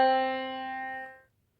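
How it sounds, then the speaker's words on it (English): A single clear pitched tone, part of an ascending major third interval exercise for do-re-mi ear training, sustains evenly for about a second before cutting off into silence. "third is going to sound like this"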